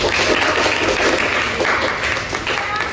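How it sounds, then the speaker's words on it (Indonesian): A class of students claps together, a steady loud wash of applause lasting a few seconds with some voices underneath. "Tepuk tangan kita kan"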